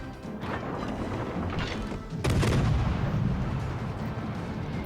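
Naval guns roar in World of Warships Legends as a heavy salvo booms in, a sustained rumbling barrage with a loud burst near the middle, close and continuous without speech.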